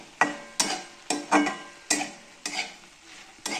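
Okra is stirred and sautéed in a pan, with sharp rhythmic scrapes of a spatula about every half second over a faint sizzle, close and without voices.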